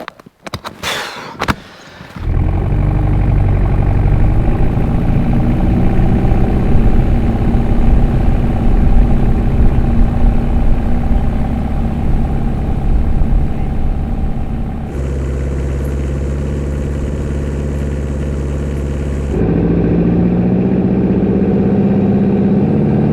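A Jeep engine runs steadily as it drives uphill through deep powder snow on a winter trip, with a loud sustained low drone and a sharp clatter at the start. A brief shift in tone comes midway before the engine settles again.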